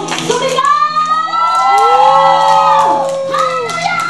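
At a church Christmas party, a crowd of adults and children shouts and cheers together in a loud, sustained burst of whoops and voices, with singing-like tones running underneath.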